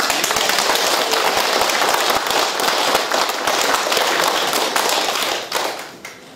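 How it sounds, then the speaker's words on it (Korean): A crowd applauds loudly and continuously at a New Year civic meeting with the Yeongcheon mayor, dense clapping filling the whole stretch before it begins to thin out at the end. "우리 박수도 크게 합니다"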